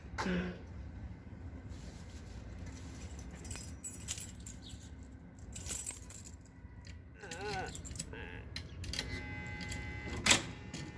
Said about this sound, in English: Let me get my keys out.